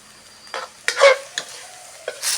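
Eggs and cucumber are stir-fried in a pan, with a few close scraping stirs of a utensil over a soft, faint sizzle.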